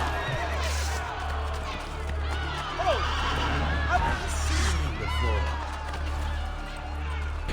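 A horse whinnies during a street fight in Assassin's Creed Brotherhood in Rome, amid hooves, crowd noise and combat clatter, with voices talking over a steady low game soundtrack.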